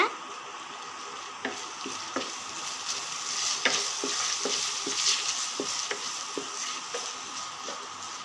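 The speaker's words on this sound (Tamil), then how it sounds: "இப்போ வெங்காயம் வதங்கிடுச்சு." Steady sizzling of onions frying in a pan with ginger-garlic paste, with occasional scraping stirs of a utensil across the bottom, close and moderately loud.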